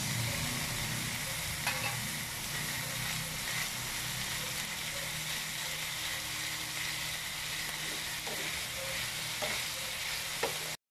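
Beef and basil leaves sizzle steadily in a hot pan over slow fire for a Thai dish, a continuous frying hiss broken by a few soft stirring clicks, with no voices.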